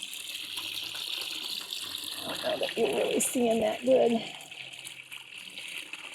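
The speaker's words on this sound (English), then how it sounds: "the flow from the waterfall" Water from a garden pond waterfall runs in a steady broadband rush throughout, while a person talks over it in the middle.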